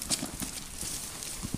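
Horse hooves clip-clop in a steady trotting rhythm on firm ground during a training session with a reactive horse, loud and continuous throughout the short stretch with no speech.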